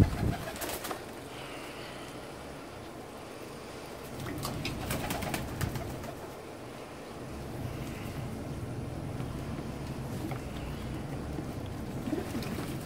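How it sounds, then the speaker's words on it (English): Pigeons at a backyard bird bath, soft cooing and intermittent splashing bursts of wings and water, close by, with a steady outdoor background. "Oh, those splashy birds."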